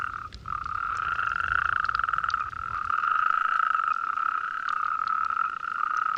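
Male Spanish toads call from a pool in a continuous, high, even trill, several voices overlapping into one steady droning chorus heard close and clear.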